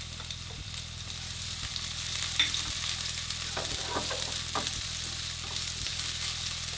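Chopped garlic and shallots stir-fry in a pan with a steady, close sizzle, broken by regular scrapes and stirs of a utensil, while a faint low mechanical hum runs underneath throughout.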